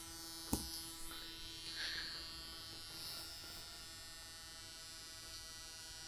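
Saga Fitness BFR cuffs inflating on the lower body with a steady electric buzz and hum, sustained and fairly faint, with a sharp click near the start and another at the end.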